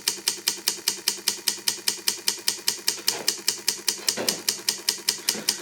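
A relay drives a DIY keyboard membrane's keys, giving a steady, rapid train of sharp mechanical clicks, evenly spaced and loud, about four per second, with a brief bump of other noise partway through.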